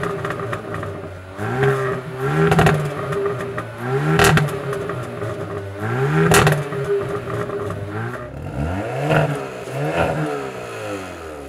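A Hyundai N car engine revs repeatedly, each throttle blip rising and falling in pitch, roughly every two seconds, loud and close with a throaty exhaust note.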